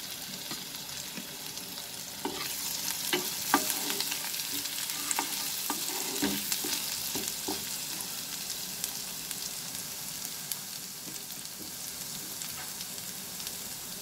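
Chopped ginger and garlic frying in hot oil with whole spices and dried red chilies, a continuous bright sizzle with stirring scrapes and occasional pops, steady and close, no voices.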